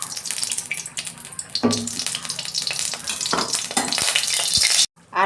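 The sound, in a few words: potatoes frying in oil in a wok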